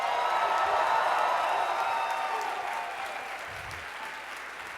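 Audience applause with some cheering at a teamwork talk in New England, a steady wash of clapping that stays loud and full before tapering slightly toward the end.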